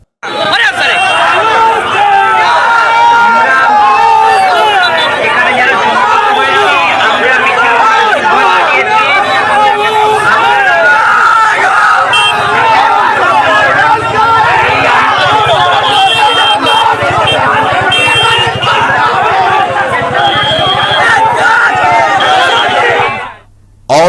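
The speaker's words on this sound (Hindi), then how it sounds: "प्रीपेड बिजली मीटरों को वापस लेने की मांग को लेकर सिलचर में नागरिक विरोध प्रदर्शन शुरू हो गया है।" A large protest crowd in Silchar, opposing prepaid electricity meters, clashes with police: a dense, loud hubbub of many shouting voices runs unbroken for the whole stretch, then cuts off abruptly at the end.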